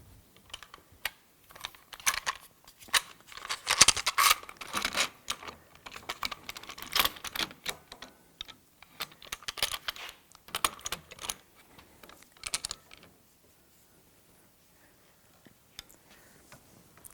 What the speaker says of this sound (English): I'll put these clamps on the edges here